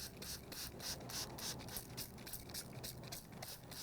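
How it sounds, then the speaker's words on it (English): Rapid repeated hissing spritzes from a spray bottle misting seed-starting soil, a quick rhythmic series of short bursts close by. "I'm going to spray it."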